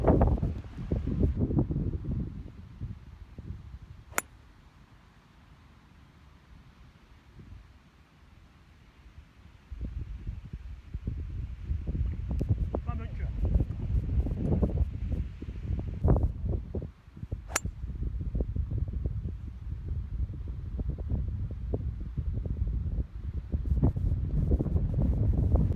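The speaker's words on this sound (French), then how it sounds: "Là c'est la tempête." A strong windstorm batters the microphone on a golf course, with deep roaring gusts that surge and fade, dropping briefly to a quieter lull before building again, plus occasional sharp knocks and clicks.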